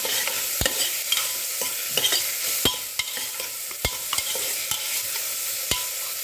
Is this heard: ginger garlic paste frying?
yes